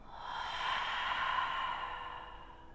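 A slow, deep exhale during yoga breathing, a single long breathy rush of air that swells and then fades over nearly three seconds, close and alone.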